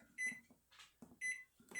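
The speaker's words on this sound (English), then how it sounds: "So, I've got it back on in the microwave." Microwave oven running with a steady hum, a short repeating tone above it, and brief clattering bursts, heard up close with no talk.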